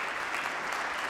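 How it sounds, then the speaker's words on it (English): A church congregation breaks into applause for the children, a dense, even roar of clapping that fills the brief moment without pause. "Let's give them a round of applause."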